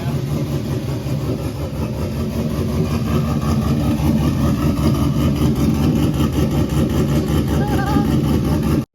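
A drag truck engine idles through its exhaust with a deep, steady, loud rumble that carries throughout, with faint voices in the background.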